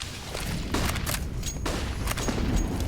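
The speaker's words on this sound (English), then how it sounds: "that nade does a lot of damage into top mid" A grenade explodes in Counter-Strike, a dull boom over dense in-game gunfire and crackling effects, loud and continuous for a few seconds with no voice over it.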